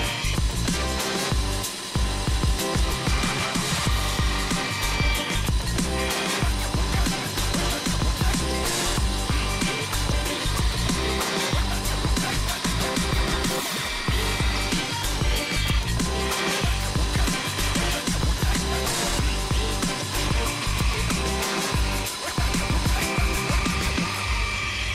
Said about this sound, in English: rough cut them at the bandsaw